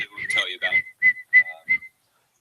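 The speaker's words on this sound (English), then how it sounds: "Whose whistle was that?" A whistle sounds in a press briefing room: a quick cluster of shrill tones, then three short, sharp, evenly spaced toots, loud and close, with no talking.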